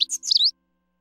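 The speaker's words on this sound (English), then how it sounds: "A baby bird is coming out of the egg." Newly hatched baby birds chirp in a short, bright flurry of high tweets, close and clear, then fall silent.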